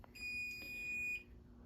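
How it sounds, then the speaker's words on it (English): A System Sensor 2WB smoke detector sounds its alarm: one loud, piercing electronic tone held for about a second, close and alone, then cutting off. "We have a system sensor 2WB smoke detector."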